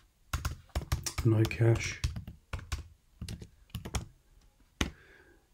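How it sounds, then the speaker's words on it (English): Command typed on a computer keyboard for a Docker container build: quick bursts of key clatter close by, mixed in with a man's ongoing speech. "So I'm going to type in Docker build,"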